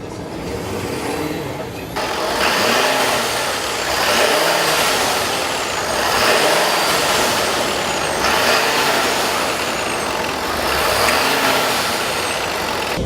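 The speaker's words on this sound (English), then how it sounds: "I could never tell the exhaust brake was working" A loud diesel engine with its exhaust brake working on a 2015 Ford F-450 Super Duty pickup roars and hisses continuously, with repeated surging swells of exhaust noise every couple of seconds.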